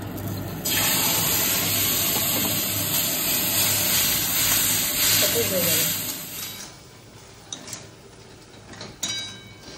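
A splash of water hits a hot pan of jackfruit curry, setting off a loud, steady, close sizzle that lasts several seconds and then fades into softer bubbling with faint clinks.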